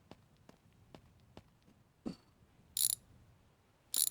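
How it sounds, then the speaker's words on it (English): Hand ratchet clicking while undoing bolts on the air cleaner of a 1969 car in a garage, a few sparse, faint ticks followed by two brighter bursts of rapid clicking, no talking. "So we'll just get them removed, and then the whole air cleaner will probably just pop off. And then we'll get these 4 bolts undone."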